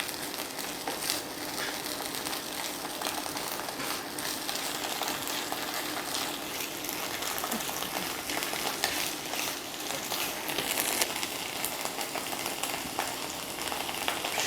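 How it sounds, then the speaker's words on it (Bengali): Hilsa fish frying in a pan, with a steady, dense sizzle and crackle of hot oil running throughout at close range, plus occasional stirring scrapes and no voices. "একটু ভালো করে ভেজে নিব"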